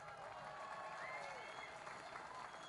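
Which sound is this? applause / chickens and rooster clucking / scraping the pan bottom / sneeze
applause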